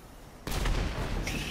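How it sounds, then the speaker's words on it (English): A sudden loud blast goes off in GTA V Online after a quiet lead-in, then a sharp metallic ring and rumbling aftermath follow within about a second. "that last explosion was me thinking that I was driving for some reason and pressing the trigger to accelerate"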